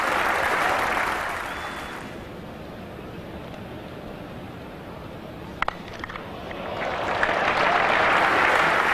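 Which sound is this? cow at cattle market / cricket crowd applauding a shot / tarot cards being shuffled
cricket crowd applauding a shot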